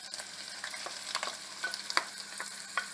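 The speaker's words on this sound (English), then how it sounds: "I want my onion to saute really nicely" Chopped onion and garlic sautéing in a pan, a steady close sizzle with light scattered pops and a few soft stirring scrapes, quiet and with no voices.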